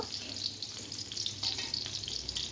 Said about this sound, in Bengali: তেলের মধ্যে আমি এগুলো দিয়ে এবার ভালো করে ভেজে নেব